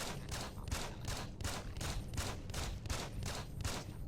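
Pistol fire in Deus Ex: Invisible War: about a dozen sharp shots fired in a steady, rapid rhythm, each a crisp close crack with a short tail.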